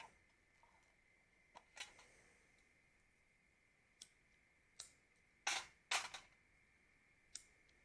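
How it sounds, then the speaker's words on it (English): Lighters are flicked one after another to check they work, making sparse sharp clicks and scratchy strikes, some doubled in quick pairs, close and fairly quiet against a faint steady whine. "I'm going to check the lighters, make sure they work."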